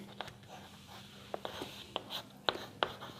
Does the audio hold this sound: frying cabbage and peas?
no